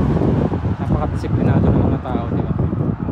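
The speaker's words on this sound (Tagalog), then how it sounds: "Kasi ang hangin dito guys malakas pag ano." Strong outdoor wind buffets the microphone in gusty low rumbles on a street in Mount Pearl, Newfoundland, while a person talks over it.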